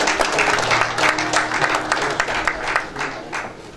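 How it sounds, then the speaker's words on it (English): Audience clapping at a memorial lecture and fellows induction, in honour of founding fathers; a moderate, uneven patter of hand claps from a crowd, with a low voice murmuring underneath. "We want to clap,"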